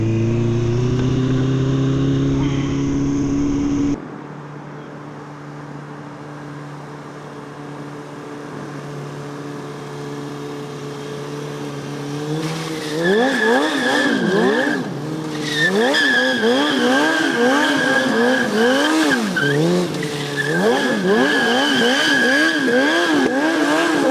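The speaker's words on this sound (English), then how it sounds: "This is how stunt riding looks like behind the scenes." A stunt motorcycle idles, then its engine revs up and down in sharp, wavering bursts, mixed with tire squeals and skidding, loud and close throughout.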